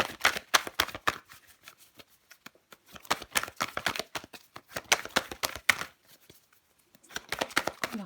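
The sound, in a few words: tarot card being placed over another card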